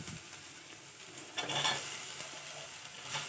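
Ivy gourd (tondekai) fries in a pan, a soft steady sizzle broken by a brief scraping stir of the spoon midway.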